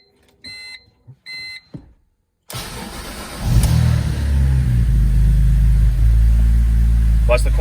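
BMW Z4 Coupe with a newly fitted Scorpion exhaust starting up after a few beeps, cranking then catching into a loud, steady idle rumble that settles and stays close.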